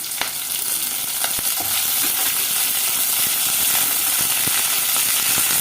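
Okra pieces fry with onions in a pan as part of an egg and okra curry, a loud continuous sizzle broken by sharp scraping and clicking strokes of a stirring spoon.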